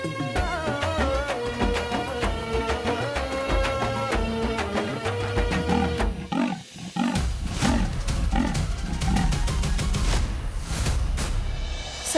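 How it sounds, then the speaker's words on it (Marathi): A big cat, a tiger or leopard, growls loudly in a low, sustained rumble, first over a droning musical score and then alone with scattered rough bursts. "वाघाच्या का बिबट्याचा गुरगुरण्याचा आवाज आला."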